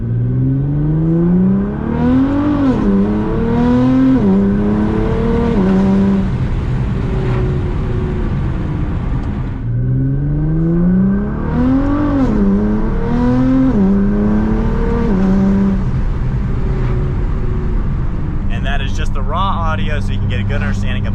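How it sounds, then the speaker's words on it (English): A car with some windows down accelerating through the gears, its exhaust note rising and falling in repeated sweeps, loud and close throughout, captured by GoPro Hero 10 Black and Hero 7 Black action cameras. "Got the car with some windows down, and the exhaust should make some noise as well."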